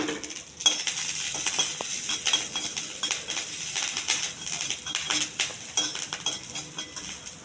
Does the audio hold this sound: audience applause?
no